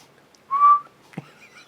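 A person gives a single short, clear whistle tone, brief and fairly close, followed by a soft breathy sound in an otherwise quiet room.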